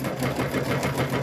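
A sewing machine stitches a fabric mug rug with a rapid, steady mechanical whir for a short continuous burst, close and clear, with no speech.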